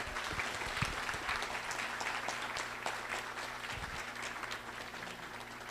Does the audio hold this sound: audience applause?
yes